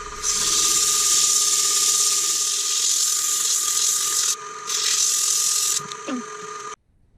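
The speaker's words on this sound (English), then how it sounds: "done quite a lot of sanding" Sanding an oak and resin platter spinning on a wood lathe gives a steady high abrasive hiss over a constant motor hum, cutting out briefly twice before the lathe stops near the end.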